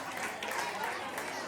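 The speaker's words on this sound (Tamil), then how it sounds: "விஷ்ணுதாக்காக ஒரு பெரிய கைத்தட்டல் கொடுக்கலாம்." Audience at a summer dance fest applauding a senior dance performer: steady, dense clapping from a crowd, fairly faint and distant, running evenly with no break.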